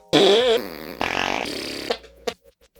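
A fart sound effect from a fart video game, made by a person blowing raspberries: a loud, long buzzy blurt breaks into a second sputtering stretch, then a few short, quieter pops trail off.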